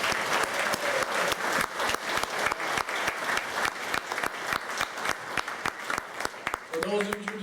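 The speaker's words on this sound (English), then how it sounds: "I think everybody in this hall should give him a great round of applause" An audience in a hall at a Hall of Fame induction ceremony gives a sustained round of crisp, distinct claps, and a voice begins speaking as the applause ends.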